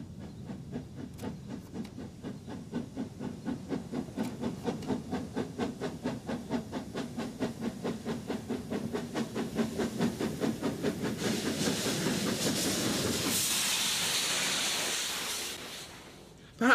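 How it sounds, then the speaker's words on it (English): A Belgian Class 12 streamlined 4-4-2 steam locomotive, rhythmic chuffing exhaust beats speeding up, then giving way to a loud, sustained hiss of escaping steam. "Perhaps the most distinctive of steam types from Belgium is this Class 12 Streamlined 442."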